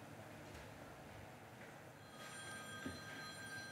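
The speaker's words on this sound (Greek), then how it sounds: "Συγγνώμη, αδέλφια, να σβήσω το τηλέφωνο." A mobile phone ringing during a church sermon. A faint electronic ring tone sounds over a steady room hiss, distant and low in level.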